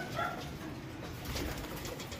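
Pigeons in a loft give soft, low cooing calls that run over a faint rustling background, heard close but quiet, with no voices.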